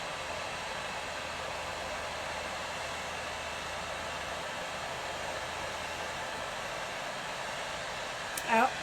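A heat gun blows hot air over burn paste on wood, a steady, even hiss of airflow lasting throughout, with a faint brief tap near the end.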